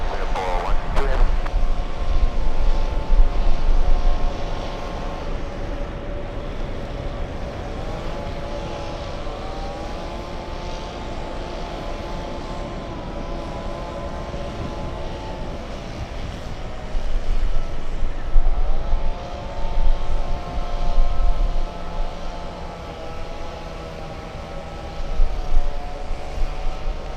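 Large airliners at LAX airport, a steady broad engine roar with rising and falling tonal whine as jets move on the runways, swelling louder at moments, with radio voices faintly heard.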